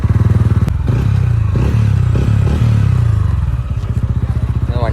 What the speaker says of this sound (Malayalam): ഇനി നമുക്ക് ഇതിൻ്റെ എക്സോസ്റ്റ് നോട്ടൊന്ന് കേൾക്കാം